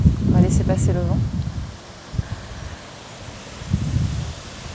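Wind blows outdoors at the autumn equinox, buffeting the microphone in low, uneven gusts, with a person talking briefly at the start before the gusts carry on alone.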